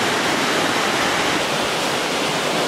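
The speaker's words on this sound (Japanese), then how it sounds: "これが粟又の滝の上から下、 すごいですよね。" Awamata Falls in the Yoro Valley, Japan, roars as water rushes down the rock face, a loud, continuous, even wash of white noise heard close up with no voices.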